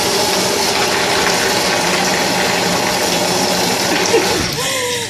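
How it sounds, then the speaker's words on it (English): Beans being rinsed under running water to wash off loosened skins, a steady loud rush of water with a faint motor-like hum underneath and a brief change in the flow near the end. "That's me just rinsing out the excess skin off it."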